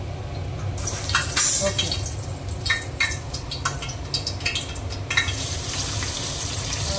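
Onion frying in oil in a pan for an Agri Koli-style big crab recipe: a steady hiss broken by frequent sharp crackles and pops, with a voice speaking briefly over it.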